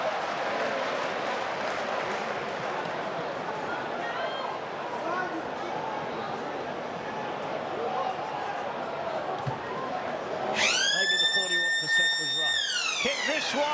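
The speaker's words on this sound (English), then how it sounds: "the siren goes in the background" A stadium siren blares near the end, a loud sustained electronic tone rising over crowd noise and commentary.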